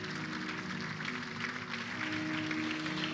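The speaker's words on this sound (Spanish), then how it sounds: "Dale un aplauso fuerte" A church congregation claps at an evangelistic service in continuous, fairly faint applause, with a sustained tone from music or an organ beneath it.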